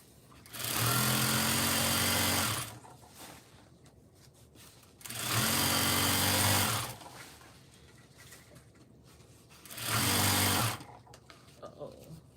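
A sewing machine stitches in three loud, steady runs of about two seconds each, with short quiet pauses between them while the bobbin is close to running out.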